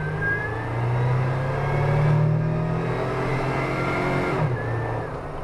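A Jeep JK engine drones steadily under load, its pitch slowly climbing as the vehicle accelerates weakly, with a brief dip near the end like a sluggish gear change. Heard from inside the cabin, loud and continuous.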